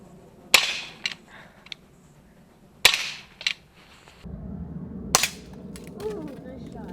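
Umarex HK VP9 CO2 blowback BB pistol firing three sharp, loud shots spaced a couple of seconds apart, each with a quick mechanical slide clack, plus a few lighter clicks and a brief low rumble between shots.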